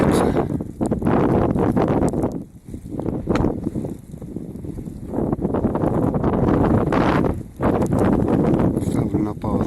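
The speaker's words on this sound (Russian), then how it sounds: "ветер сильный" Strong wind in a snowstorm buffets the microphone in loud, gusty roaring bursts with brief lulls between gusts. A voice speaks over the wind.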